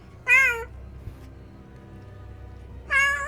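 Two short, clear cat meows, one near the start and one at the end, with a quiet pause between them and no talk.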